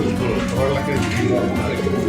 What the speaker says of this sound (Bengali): তো লাকি কবুতর কই